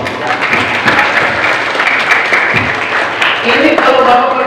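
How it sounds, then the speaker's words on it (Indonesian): Applause from a church congregation at a Christian youth gathering, steady dense clapping filling the space, with some voices over it. "Tepuk tangan dulu untuk yang jawab."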